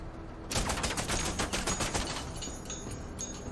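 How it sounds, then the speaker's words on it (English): Rapid gunfire in the tactical video game Menace, a dense run of sharp close shots in a quick rattling volley, then fading into a quieter noisy tail. "Lay down fire."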